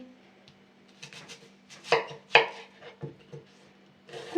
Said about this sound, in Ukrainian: Зараз я нарізаю овочі